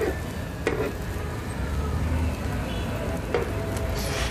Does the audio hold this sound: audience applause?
no